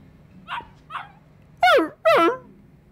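A small dog barks in the Yakuza Kiwami video game: two soft yips followed by two loud, sharp barks in quick succession, close and clear without talk.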